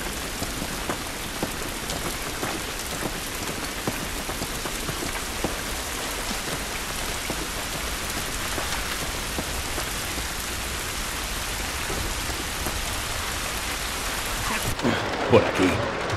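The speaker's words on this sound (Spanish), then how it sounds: "Esta lluvia no nos va a ayudar" Steady rain pours down in the outskirts area of The Last of Us Remastered, a dense continuous hiss of drops on surfaces that runs unbroken for the whole stretch at even loudness.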